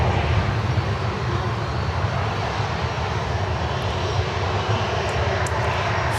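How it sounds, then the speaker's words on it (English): A Kalitta Boeing 747-400 cargo jet lands on runway 9, its engines giving a loud, continuous broadband roar that stays steady and close throughout without talk. "Kalitta 747-400. Yes, there she is. Coming in on runway 9."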